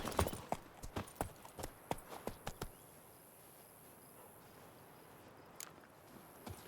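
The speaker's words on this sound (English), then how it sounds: "Whoa there, Roach." Horse hooves clip-clop in The Witcher 3 video game, a series of sharp, close hoofbeats in a steady gait that slows and stops, leaving faint insect chirping and a couple of later soft taps.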